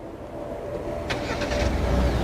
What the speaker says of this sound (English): car is now started.